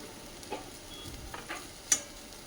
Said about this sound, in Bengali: আমি একদম সেকা সেকা করে এটা ভাজছি।